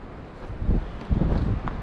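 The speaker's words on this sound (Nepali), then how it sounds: "हावा चाहिँ बेसरी चल्ने रहेछ।" Strong wind buffets the microphone on the Manaslu trek between Dyang and Namrum at about 1050 metres, a low roaring rumble that swells in gusts, with no speech.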